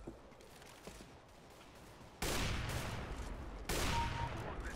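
AWP sniper fire in Counter-Strike: Global Offensive deathmatch, heard as two loud, sudden blasts a second or so apart, each ringing out in a broad wash over quieter game ambience.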